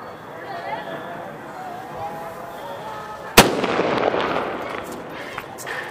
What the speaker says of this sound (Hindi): दोस्तों ना ये 3-3 टाइम बॉम काफी अच्छा चला है सूतली बम के मुकाबले।